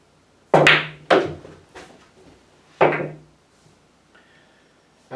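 A pool cue strikes the cue ball to pocket an object ball, giving a few sharp, close wooden clacks spaced about a second apart, each with a short decay, followed by quieter knocks and a faint tonal rumble at the end.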